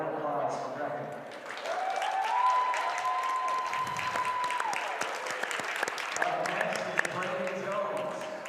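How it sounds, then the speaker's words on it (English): A crowd at a high school varsity wrestling senior night applauds steadily for a senior wrestler, with an announcer's voice over the clapping and a drawn-out tone running through the middle. "A round of applause for Brecken"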